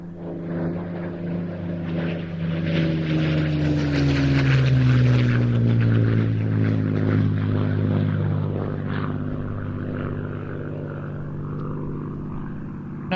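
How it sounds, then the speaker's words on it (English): A Supermarine Spitfire flying past at an airshow. Its propeller engine is a loud, sustained drone whose pitch sweeps downward as it passes, then holds a steady throaty roar that slowly fades. "And rolling in from the right, George Hay and the Suffolk Spitfire"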